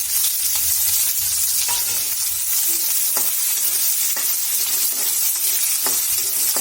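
Chopped onions fry in oil with bay leaves for a besan paneer curry, giving a steady, close crackling sizzle throughout with occasional stirring scrapes and no talk.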